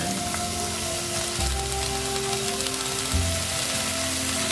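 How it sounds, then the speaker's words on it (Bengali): Bottle gourd peel and potato frying in mustard oil, a steady close sizzle and crackle running continuously with faint stirring scrapes and low kitchen hum, no talking. "আর ভাজিটা হচ্ছে সরিষার তেলে"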